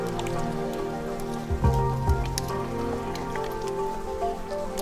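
Water drops falling from the roof of the Lofthellir ice cave onto ancient icicles, scattered bright plinks and drips ringing out like notes, close and clear, with a couple of louder low splashes early on.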